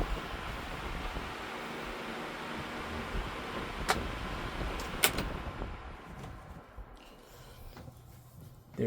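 An Air King 9151L commercial-grade desk fan from 2000 spins down, its steady broadband whoosh of moving air gradually thinning and fading toward the end, with a couple of brief clicks along the way.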